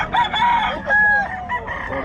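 Roosters crow close by at an open-air market selling fighting cocks, a couple of strained calls with clucking and crowd chatter around them.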